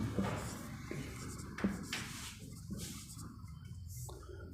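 Chalk scratches across a classroom board in short strokes with tapping contacts, moderately close and fairly quiet, with a faint voice now and then.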